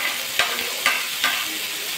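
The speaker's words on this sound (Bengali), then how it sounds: "কিশমিশ, আবার একটু নাড়াচাড়া করে নিলাম।" Raisins being stirred through a mixed fruit chutney in a pan, a continuous bubbling sizzle with three evenly spaced scraping strokes of a spoon, close and steady, no talk.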